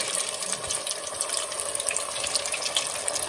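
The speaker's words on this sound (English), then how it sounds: "in goes the taquito into the deep fryer" A taquito fries in hot oil in a deep fryer, giving a steady, soft bubbling hiss close by and unchanging, with no voices.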